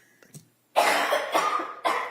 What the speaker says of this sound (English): one of the jurors is having a coughing fit.